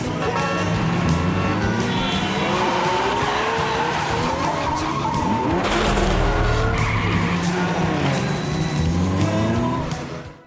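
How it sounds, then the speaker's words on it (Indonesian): Cars skid through a film car chase: loud, continuous tire squeals and engine roar fill the whole stretch, with a busy, dense mix of tones layered on top. "Bok Nam datang dan mencoba menghalangi laju dari mobil-mobil penjahat itu"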